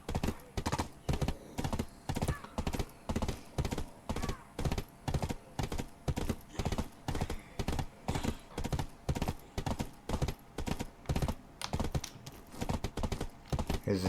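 Hoofbeats from a ridden horse in the video game Black Desert keep up a brisk, regular clip-clop rhythm from start to finish, close and clear with only faint background tones.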